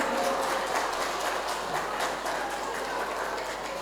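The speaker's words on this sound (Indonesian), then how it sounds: "Tepuk tangan buat Bunda Ayah semuanya." Audience at an indoor parenting talk applauding, a steady wash of many hands clapping that holds evenly for several seconds, with faint voices mixed in underneath.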